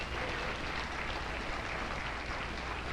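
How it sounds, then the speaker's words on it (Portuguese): A congregation at a church service claps in a steady, even wash of applause that holds for the full three seconds at a moderate, slightly distant level. "dá uma salva de palmas para Jesus"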